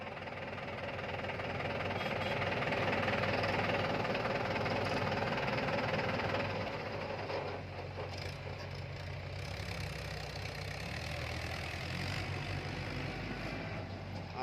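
A loaded Mahindra tractor tipper carrying soil drives out, its diesel engine thrumming steadily nearby, swelling then easing as it moves off, with no talk.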